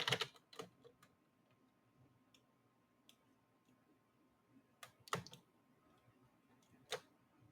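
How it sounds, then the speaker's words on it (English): Keys on a computer keyboard are tapped in short, sparse clicks: a quick cluster at the start, scattered single taps after, and a few sharper presses near the end, all faint in a quiet room. "I'm going to type in notes"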